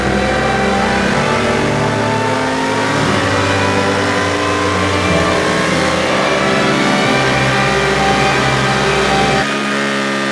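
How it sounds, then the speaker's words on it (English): An Indian Scout motorcycle engine runs hard and loud up close on a dyno, its tone climbing steadily in pitch as it revs, then cutting off abruptly near the end. "Jason has just put the Scout on the dyno and spun it up."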